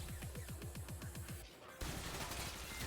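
Tenet Flux Rifle in Warframe fires a steady, rapid stream of pulsing shots, about ten evenly spaced throbs, then switches after a brief dip to a dense continuous roar of gunfire.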